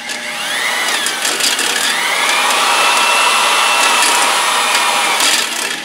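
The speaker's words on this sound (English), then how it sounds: "make sure you got a good grip on the drill so that it doesn't rotate in your hand" An electric drill spins a cylinder hone inside an engine block bore, giving a steady, loud, high-pitched whirring grind that holds evenly for several seconds at close range.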